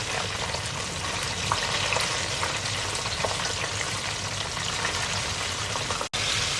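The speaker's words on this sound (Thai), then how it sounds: "นี่ทอดรอบสองจ้ะอุ้ยกระเด็น ทอดให้กรอบจ้ะ" Chicken wings on their second round of deep-frying until crisp, giving a loud, steady, close hiss and crackle of bubbling oil throughout, with no talking.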